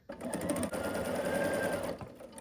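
Sewing machine stitching quilt pieces together, a steady close-up mechanical whir running continuously for about two seconds, then stopping.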